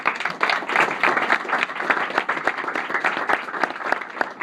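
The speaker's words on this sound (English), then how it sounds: "They deserve a round of applause." An audience at a Norwalk mayoral race concession speech breaks into steady, dense applause for union members, many hands clapping close and loud for several seconds with no talk over it.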